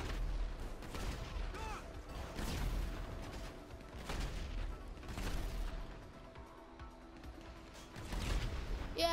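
Repeated gunfire and booming blasts in GTA 5, bursts recurring every couple of seconds at moderate loudness, with a voice talking over the action.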